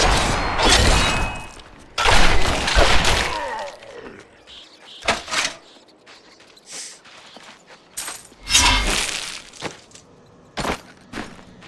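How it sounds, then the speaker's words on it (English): Corpse explosion skill effects in a video game burst out as loud, sharp impacts and crunching blasts, several heavy clusters separated by quieter gaps and smaller scattered hits. "Corpse explosion."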